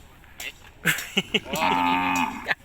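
Cattle moo at a cattle market in Thailand, with one long, drawn-out low moo near the middle after a few short calls and knocks, set against faint background noise.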